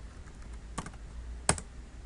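A computer keyboard is typed on while a web page is being built: two short, quiet bursts of key clicks, close and alone against a soft room hum.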